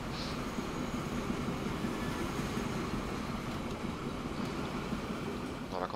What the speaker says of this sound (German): Und so wollen wir die Züge auch ausfahren lassen.